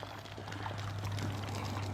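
Collected rainwater, just over two inches after a heavy rain, poured out of a rain gauge in a steady continuous splash over a low constant hum, close by and moderately loud.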